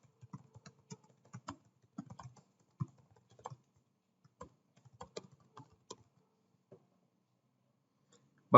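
Computer keyboard typing while writing C# code, sparse soft key clicks in short irregular bursts with pauses between them, fairly faint and close, ending in a sudden louder thump.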